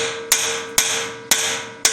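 Four sharp, ringing hammer strikes on metal, loosening injector nuts and sleeves on a YuMZ D-65 tractor engine, evenly spaced about half a second apart, each leaving a bright metallic ring that fades before the next blow.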